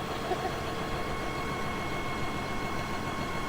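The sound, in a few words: tractor engine idling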